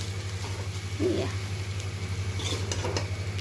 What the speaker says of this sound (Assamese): চব্জিটোৱে ভাজিছোঁ